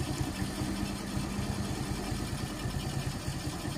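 A Kawasaki Fury 125 motorcycle engine idles steadily nearby during carburetor tuning, a low, even putter with a regular pulsing rhythm and no other sounds.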